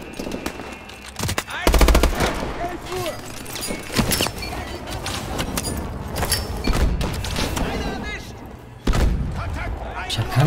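Rapid automatic weapon bursts and heavy booms from Call of Duty Advanced Warfare, repeated loud volleys with thuds between them, while someone talks over the battle.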